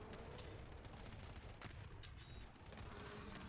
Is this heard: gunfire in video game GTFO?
yes